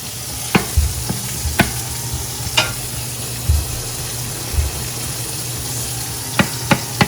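T-bone steak frying in a pan of oil with garlic, a steady close sizzle broken by scattered sharp pops and a few low thuds of stirring or pan movement.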